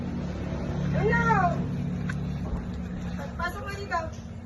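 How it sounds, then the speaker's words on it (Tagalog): A cat meows several times, with rising and falling cries near the start and again toward the end, over a steady background hum while people talk nearby. "May nakapasok na pusa?"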